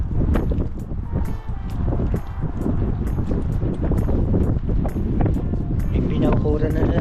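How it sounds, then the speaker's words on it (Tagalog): Strong wind buffets the microphone with a constant loud rumble, while a person talks underneath. "It's windy pero okay lang"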